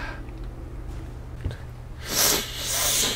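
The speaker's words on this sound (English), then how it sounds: "So I just snorted a boogie so I don't have to go blow my nose." A person with a cold takes a wet, rough snort, sucking mucus up the nose, followed by a second sniffing breath, close and fairly loud over a low background hum.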